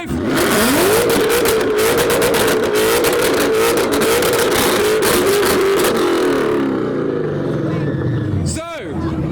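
Car engines including a Martini-livery Mustang revving hard in a rev battle, a loud sustained roaring rev that holds for several seconds before dropping off, with crowd noise and voices around it.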